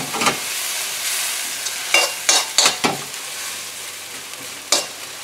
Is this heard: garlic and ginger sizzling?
yes